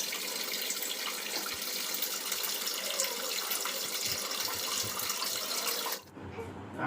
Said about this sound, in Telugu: సింక్లో నీళ్ళన్నీ నిండిపోయి అస్సలు కిందకి వెళ్ళట్లేదు.